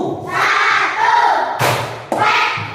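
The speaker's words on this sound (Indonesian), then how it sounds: "Tepuk satu." A class of elementary schoolchildren chants loudly together in a clapping game, and two sharp, near claps ring out in the second half amid the group voices.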